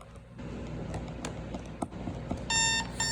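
A Soundesign Model 3827 AM/FM digital alarm clock radio sounds its alarm, a loud, steady electronic beeping that starts partway through over a low background hum and keeps going to the end.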